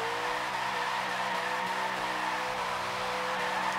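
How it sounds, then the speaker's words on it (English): Tires squeal steadily as a twin-turbo Dodge Super Bee does a burnout in the Forza 7 racing game, a loud continuous screech over engine roar with no talking. "okay, it does a burnout"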